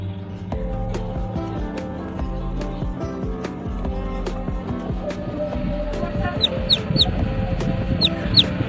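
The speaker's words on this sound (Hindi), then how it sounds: "आप देख सकते हैं ये 3 चूज़े मेरे पास निकल चुके हैं" Newly hatched chicks in an incubator give high, thin peeps, sparse at first and then clustering into quick repeated chirps toward the end, over a steady low mechanical hum.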